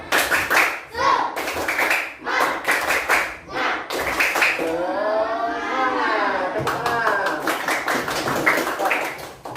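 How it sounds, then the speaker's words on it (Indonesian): Standing classroom students do rhythmic spirit clapping in patterned bursts of sharp unison claps, paused while they chant together, then resumed in steady claps; loud and close, with children's voices between the clapping. "Semuanya berdiri, tepuk semangat kita semuanya."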